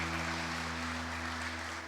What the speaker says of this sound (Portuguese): Quem crê assim, dê uma salva de palmas para o Senhor.